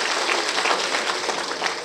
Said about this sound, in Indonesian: Tepuk tangan dulu dong buat kepala desanya